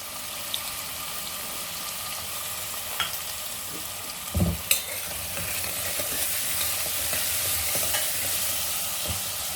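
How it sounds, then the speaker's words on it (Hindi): Potatoes and crushed fenugreek sizzle steadily in hot oil, a broad hiss running throughout with a few clinks and a short stirring rustle near the middle, close and moderately loud, no talking. "तो तेल हमारा गर्म हो चुका है। इसमें डालेंगे हम सबसे पहले आलू। और डालेंगे हम क्रश किया हुआ मेथी।"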